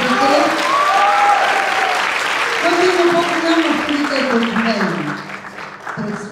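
An audience at a Christmas show of "A Christmas Carol" at a language high school in Vidin applauds warmly and steadily, the clapping tapering near the end while a voice speaks over it.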